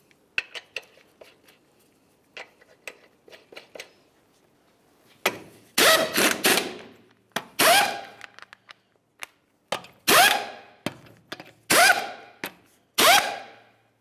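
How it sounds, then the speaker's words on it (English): Lug nuts, 22mm, being run onto a wheel on a 2005-2010 Dodge Dakota during CV axle replacement: light metallic clicks at first, then several loud, close bursts of a power tool spinning the nuts down. "Start on all 5 of your 22mm lug nuts, bottom them out."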